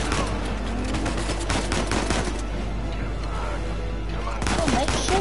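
Rapid gunfire in the Uncharted 4 video game, with dense bursts of shots over a loud, busy battle mix and a brief voice partway through.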